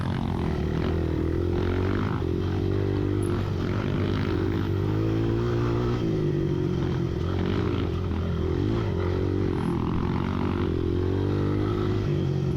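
Honda XR200 dirt bikes ride cross country over slightly damp ground, their engines making a loud, continuous droning roar close by with small shifts in pitch and no break throughout.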